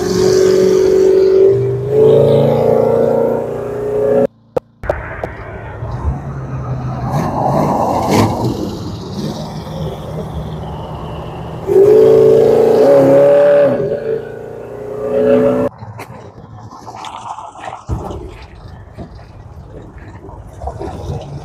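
A 1965 Plymouth Satellite with a 440 engine drives off, its loud exhaust rising and falling in revs with a few sharp throttle bursts and a brief cut, close by.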